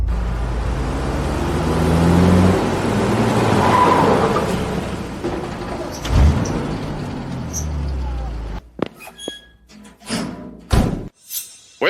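An old junk car drives up with a rumbling engine and road noise, then skids to a stop with a thud, followed by a quieter stretch with sharp scattered sounds.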